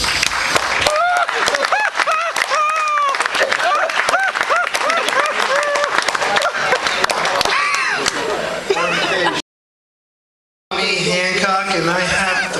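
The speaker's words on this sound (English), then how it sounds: "I'd like to take a moment to applaud everyone who had something to do with this wonderful celebration" Wedding guests clap and cheer loudly in a dense, steady burst with voices calling out through it, broken by a brief silence before the applause resumes.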